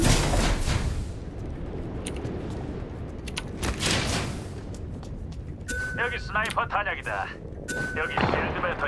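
Gunfire in the video game Apex Legends, with loud bursts of shots and booms over a constant noisy game background, and a few sharp chirping sounds near the end.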